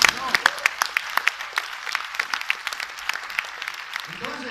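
An audience at a comedy show claps in scattered, distinct bursts, the individual hand claps sharp and near at first, then thinning into a lighter patter under a faint background murmur.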